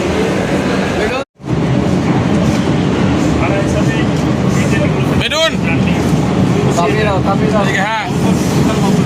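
Steady loud rumble of a Kolkata metro train in motion from Dum Dum toward Dharmatala, with faint squealing wheels and voices talking over the noise throughout.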